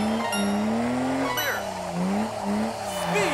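A drift car at a drift event makes a loud, sustained engine whine and tyre squeal through a speed drift, with the pitch rising and falling as the car slides, close and continuous throughout.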